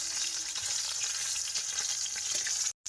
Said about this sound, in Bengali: মাছগুলো কিন্তু খুব ভালোভাবে ভেজে নিয়েছে, একদম লাল লাল করে।